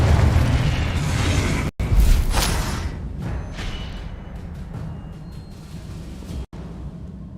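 Fiery spell blasts from a Hogwarts wizarding video game, a loud dense burst up front, a brief cut, then a second sharp boom with a whooshing flare that decays into a rumbling crackle.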